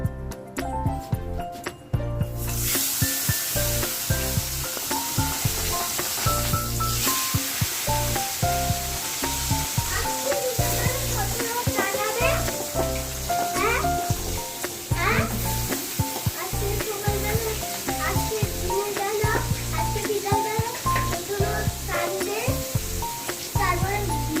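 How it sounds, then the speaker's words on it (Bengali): Pangas fish pieces go into hot oil in a kadai and set off a steady loud sizzle and crackle that fills the whole stretch, with someone talking and some clatter and stirring over it. "এদিকে কড়াতে তেল দিয়েছি তেলটা হয়ে গেছে আমার এবার আমি মাছগুলো ছেড়ে ভেজে নেবো"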